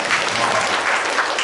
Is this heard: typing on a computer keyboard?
no